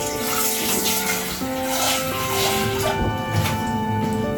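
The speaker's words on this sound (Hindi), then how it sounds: "तो हम इसमें पानी भर के रख देंगे" Tap water runs steadily and loudly into a dirty pan being left to soak before going into a dishwasher, a continuous close rushing that holds for the whole stretch.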